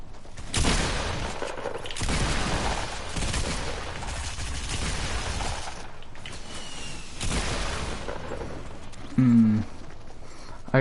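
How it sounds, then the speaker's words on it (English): Fortnite assault rifle fire in bursts: several dense, loud stretches of rapid gunfire separated by brief pauses, with a short tonal game effect near the end and no talk. "If any of my 3 burst shots would have landed, because I do not have that good of accuracy with an assault rifle that close"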